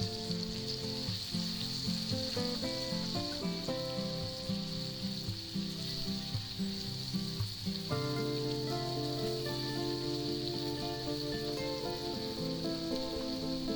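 Onions and mushrooms sautéing in butter in a pan give a steady, close sizzle and frying crackle that carries on evenly throughout with no talking.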